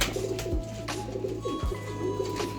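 Pigeons coo nearby in soft, repeated throaty calls as they come to feed, several overlapping in a relaxed rhythm, with faint rustling between.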